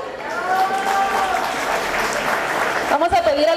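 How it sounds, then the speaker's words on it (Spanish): Wedding guests clap for a Bible bearer as she walks out, a dense, even patter of applause with a voice speaking over it and rising again near the end. "Fuerte los aplausos para ella."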